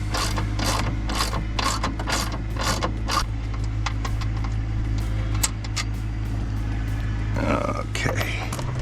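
A ratchet loosens bracket bolts on a 2020–2022 Ford SuperDuty with the 6.7L Powerstroke engine. Its quick, steady clicking sounds close-up over a constant low hum.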